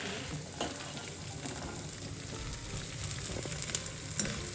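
Edible gum fries in ghee with a continuous close sizzling and bubbling, with faint stirring clicks over it.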